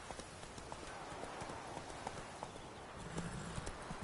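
Roach the horse trotting in The Witcher 3, hooves clip-clopping in a steady rhythm at moderate distance, fairly faint, with a short low snort or whinny near the end.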